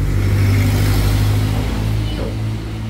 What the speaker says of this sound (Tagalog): Ang ingay ng mga sasakyan dito sa amin